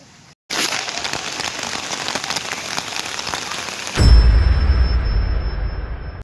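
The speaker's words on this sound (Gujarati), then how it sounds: "જોવો આમ કેવો વરસાદ છે." Dense, steady rain pours in Bhavnagar with a constant hiss, then swells into a heavier, deeper roar partway through. No voices.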